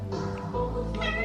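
A cat meows twice at close range, a long drawn-out cry followed by a short pause and a second meow.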